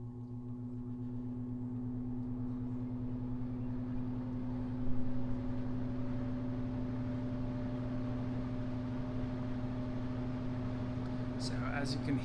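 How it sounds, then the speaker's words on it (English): An HP-240 fan handler motor ramps up slowly and smoothly to its low speed, a steady mechanical hum with a tone that climbs gradually over about twelve seconds, heard alone at a moderate level. "the motor now has a really slow and smooth ramp up to its low speed"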